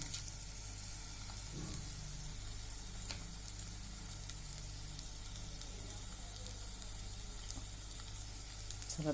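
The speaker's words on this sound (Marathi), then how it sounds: "सर्व साईडनी छान तळून घेऊया बघा कसा कलर चेंज होता" Bread-based veg cutlets deep frying in hot oil, a steady continuous sizzle that stays even and moderately loud from start to finish with no talk over it.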